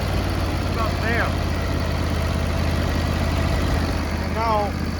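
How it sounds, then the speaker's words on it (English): A John Deere D170 lawn tractor engine idles steadily after a carburetor replacement, a continuous low, even hum throughout, with brief voice sounds over it. "now you see it's idling relatively quiet"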